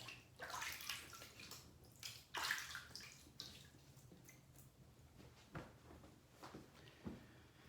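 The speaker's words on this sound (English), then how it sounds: "I am gonna wet the face." Water runs and splashes from a tap as a face is wetted before shaving, a soft, close trickle with a few drips and light splashes, fairly quiet throughout and with no talking.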